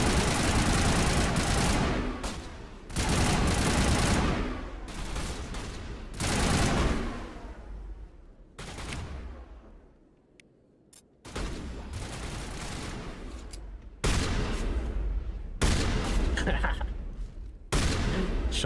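Shotgun blasts and heavy weapon fire from the video game Mass Effect Legendary Edition come in loud, dense bursts, separated by brief quieter gaps and scattered sharper shots.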